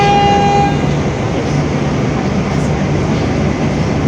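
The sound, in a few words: riding commuter train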